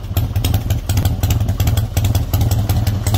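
A custom Harley-Davidson Springer Softail motorcycle runs close by: a loud, lumpy, steady engine rumble with a rapid uneven beat and mechanical clatter throughout, with no voices.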